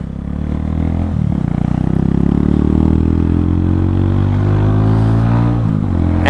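A Mutt motorcycle engine runs loud and close, with a steady throbbing rumble that swells slightly as it revs, and no voices.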